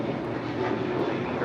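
A JetBlue Airbus A321neo departs LAX for JFK, its jet engines producing a steady, broad roar throughout a brief moment, loud and continuous with no voices.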